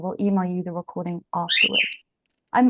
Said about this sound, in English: I'm hearing a beautiful bird in the background.